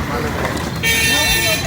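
A vehicle horn toots steadily for about a second near a busy Indian market, starting midway and sounding loud and close over voices and street noise.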